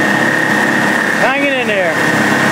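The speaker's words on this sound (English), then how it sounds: "The old 85 horsepower Force." An old 85 horsepower Force outboard motor drives a river boat on the Delaware River, holding a steady, loud engine drone throughout while a voice briefly rises over it.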